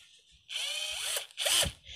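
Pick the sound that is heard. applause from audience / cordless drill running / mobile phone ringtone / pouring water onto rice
cordless drill running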